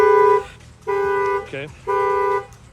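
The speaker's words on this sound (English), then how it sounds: "You're going to see the alarm's going to set off." A Nissan GT-R's factory alarm, fitted with a shock sensor kit, goes off after someone bangs on the window, sounding three loud, even-pitched horn-like blasts with short gaps between them, while a voice briefly speaks in the middle.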